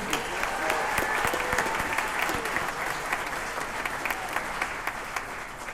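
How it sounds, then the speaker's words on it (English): An audience at a holiday jazz band concert applauds a trumpet player, a sustained, even wash of clapping with distinct individual claps, moderately distant and continuing without a break. "Round of applause for him."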